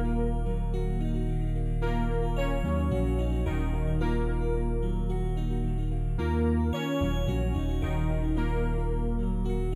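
A dark guitar sample layered with a vintage Prophet synth and a deep bass line plays in an FL Studio beat, a loud, dense loop with low-end drops and brief gaps in the bass.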